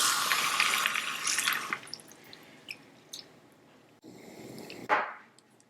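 Goji berries are rinsed in cold water, with a steady rush of running water fading into soft drips, small splashes and wet handling noises, close up and with no talking.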